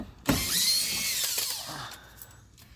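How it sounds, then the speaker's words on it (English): A power tool with a Torx bit whirs briefly and loudly while backing clips out from under the bumper of a 2021 Chevrolet Traverse, rising in pitch for about a second and then dying away. "So that same Torx bit right here, I'll take these off."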